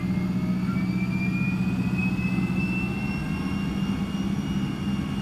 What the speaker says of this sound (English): Fire up the engine starter on engine number 1.